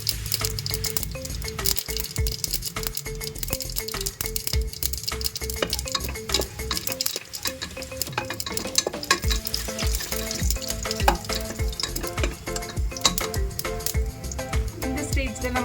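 Garlic cloves frying in hot oil for sambar rice, a steady close sizzle with repeated stirring clatter throughout, under background music.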